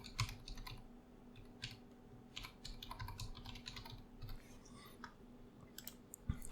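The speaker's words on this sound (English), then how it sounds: "if we type our password" Quick, light keystrokes clatter on a computer keyboard as a password is typed, close and fairly quiet, coming in short irregular bursts with brief pauses.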